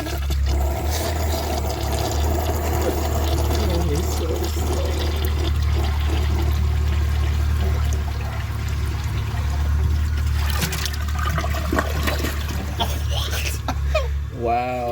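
A Kohler Rialto front-flushing toilet rushes and gurgles steadily as it flushes down a grocery bag, the water loud and close throughout, with a person talking over it.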